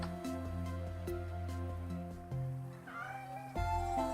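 A bug cat creature in the video game Spiral Knights lets out a short rising meow over a bed of tonal game music.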